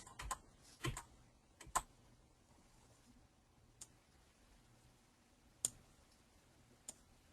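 Arrow keys on a computer keyboard pressed in short separate taps, a cluster of crisp clicks early on and then single isolated presses spread apart, quiet and close, with no talk.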